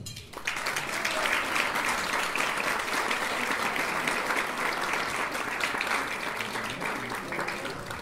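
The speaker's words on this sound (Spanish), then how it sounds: "Y yo pienso que Clara Ayala Barresueta se merece un fuerte aplauso." Sustained applause from a large crowd, a dense, even wash of clapping that starts abruptly and carries on steadily to the end.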